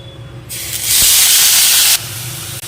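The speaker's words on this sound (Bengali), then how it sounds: "আমি ছোট ছোট করে গাজর, লঙ্কা, পেঁয়াজ আর আছে ক্যাপসিকাম, এগুলোকে এবার আমি এর তেলের মধ্যে দিয়ে দেবো" Chopped carrot, green chilli, onion and capsicum hitting hot oil in a pan, a loud burst of hissing sizzle that swells for about a second before dropping back to a quieter simmer, with no voices.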